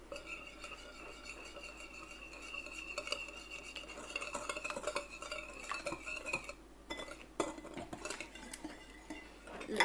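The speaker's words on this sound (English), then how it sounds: "Now whisk everything together." A whisk or fork beats an egg and milk mixture for French toast in a bowl, a steady run of quick scraping taps and clinks close by, continuing for about ten seconds with no voices.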